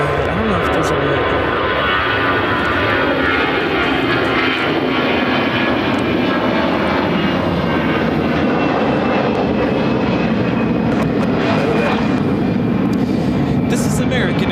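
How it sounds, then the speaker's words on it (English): An American Airlines A320 roars on its takeoff run, a loud, steady, broadband jet rumble with a rising whine that fills the whole stretch; faint background talk is possible under the noise. "This is American Airlines 2840 taking off to Philadelphia on the A320."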